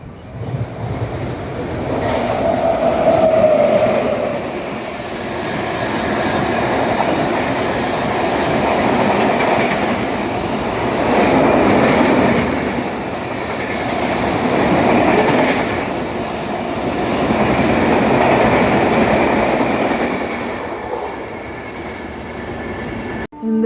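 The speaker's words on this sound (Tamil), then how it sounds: "இந்த நியூ டெல்லி புதுச்சேரி எக்ஸ்பிரஸ் வந்து ஒரு ஹை டிமாண்டட் ட்ரெயின்" A New Delhi to Puducherry superfast express train running, its wheels and carriages giving a steady rumbling roar with swells of louder rattling throughout, heard close by with no talking.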